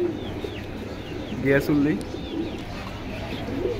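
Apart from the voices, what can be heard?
pigeons cooing at a pigeon market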